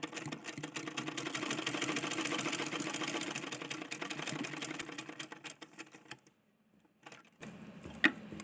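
A sewing machine stitches a blouse at home with a quiet, rapid, even whirring clatter for about five seconds. It then stops, leaving near silence before a brief handling clunk.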